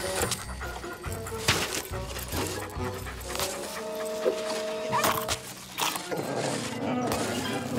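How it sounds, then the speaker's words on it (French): A cartoon dog pants and whimpers in quick breathy bursts, with short huffs and a few soft vocal sounds, close and moderately loud, mixed with other scene noises. "Gentil toutou, qui veut un bon biscuit pour chien?"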